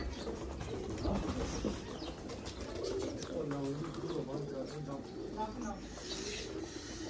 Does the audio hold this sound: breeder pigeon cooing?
yes